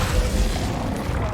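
Impact of the Descendo spell in the video game Hogwarts Legacy, a short, dense booming burst with low rumble that fills the moment without pause.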